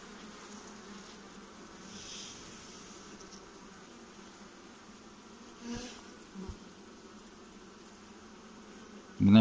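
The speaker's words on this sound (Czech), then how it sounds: "tohle jsou silnější včely" Honeybees buzz steadily at an open hive during a spring inspection in the Vysočina region, a continuous low, even hum with a few soft knocks and no talk.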